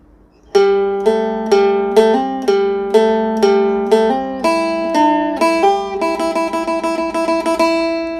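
A plucked phin, a Thai lute, plays a slow melody of ringing notes over a sustained drone, then quicker repeated plucks near the end.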